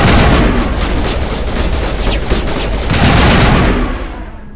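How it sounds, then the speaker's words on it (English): Dense gunfire rattles through a firefight in the Mass Effect video game, sustained bursts and booms overlapping loudly for the whole stretch before easing near the end. "Open fire!"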